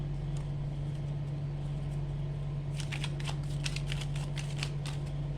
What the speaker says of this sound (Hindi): this is going to be last shuffle